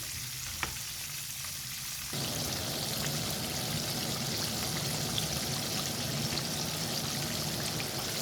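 Chicken breast deep-frying in oil for crispy fried chicken, a dense steady sizzle and crackle that grows louder after a couple of seconds and continues unbroken.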